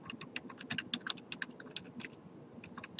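Steady, close typing on a computer keyboard in Word produces a rapid patter of crisp individual key clicks with no talk.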